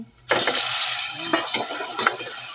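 Chicken drops into a pan of garlic, onion and ginger and bursts into a loud close sizzle, followed by scraping stirs and crackling that keep going.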